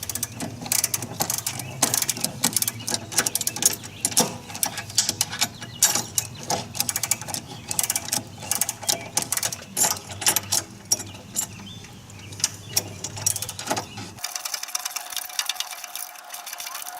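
Ratchet wrench clicking in rapid bursts while tightening bolts on an outboard motor bracket for a 300hp Evinrude E-Tec G2, close and fairly loud, with a sudden stop near the end.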